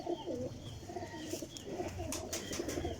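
A golden pigeon coos softly and repeatedly over a steady background hiss, with a few faint chirps from other birds nearby.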